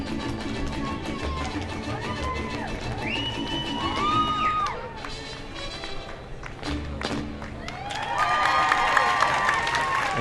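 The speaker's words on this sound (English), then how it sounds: "And they get their round of applause." At a Chinese New Year parade in 2015, a crowd applauds and cheers, loud and continuous throughout, with scattered claps, tonal noisemakers and background chatter rising again toward the end.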